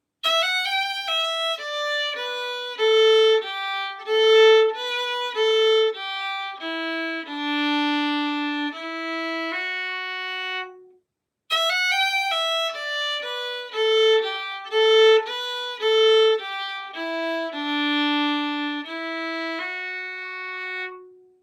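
A solo fiddle plays a lively phrase from the Irish reel The Banshee twice, with quick bowed notes and a brief gap before the repeat, clear and close.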